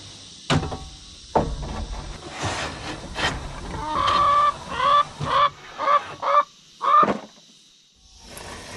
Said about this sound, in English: they keep me company and add a delightful tune to the air with their clucking